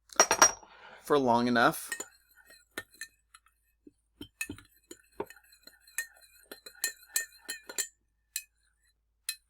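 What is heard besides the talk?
spoon stirring sugar into water in glass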